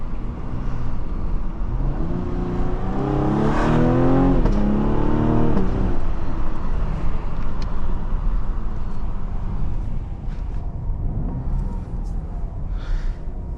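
A 2021 Cadillac CT5 with a 3.0L V6 accelerates in manual mode, engine pitch climbing then dropping at the 1-2 upshift and climbing again, heard from inside the cabin with steady road noise.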